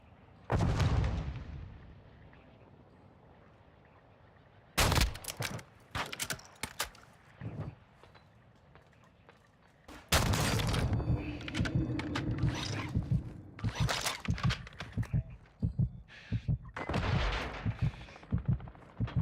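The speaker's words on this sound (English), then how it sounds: "Somebody's shooting RPGs." Rocket-propelled grenade launches and heavy explosions ring out in the video game Call of Duty DMZ, with a big blast at the start and then dense clusters of loud booms and bursts of firing, some close and some distant.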